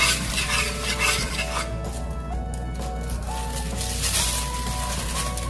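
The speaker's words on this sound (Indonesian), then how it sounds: "aduk ya guys." Steady stirring in a frying pan as a glass of water is mixed in, with soft scraping and liquid sloshing over a low continuous background hum.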